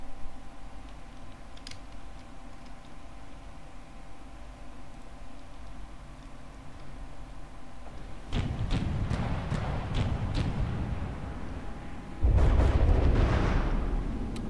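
Anti-missile cannons firing in the vehicle-building game From The Depths, a quiet mechanical hum giving way to a loud run of sharp rapid shots around the eight-second mark, then a heavier burst of blasts near the end.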